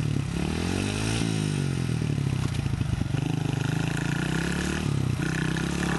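A motorcycle engine runs close and steady on a ride in Vietnam while the rider works the clutch and holds the throttle. The revs rise and fall slightly, with mechanical clatter over the drone.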